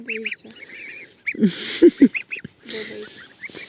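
Goslings peep and honk in short bursts close by on a pasture, some calls overlapping, with quiet stretches between.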